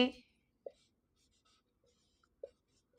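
A teacher writes on a board during a Hindi grammar lesson on tenses, giving a few sparse, faint taps and short strokes spaced apart in a quiet room.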